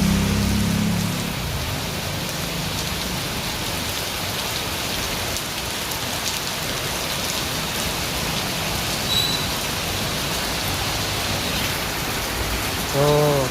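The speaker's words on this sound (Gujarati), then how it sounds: "શું કે મસ્ત આજ તો વરસાદ સવારથી પડી રહ્યો છે" Steady rain falls outdoors, drops pattering onto standing water in a continuous dense hiss close by, with brief faint voice sounds at the start and end.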